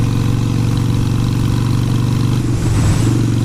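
A motorcycle engine runs loud and close, with steady low harmonics and a brief change in tone near the end, as if the rider shifts through the gears of a five-speed bike while riding.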